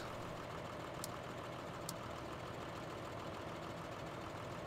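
Tractor engine idling in Farming Simulator 15, a steady low mechanical hum running throughout with no talk, plus two brief high clicks.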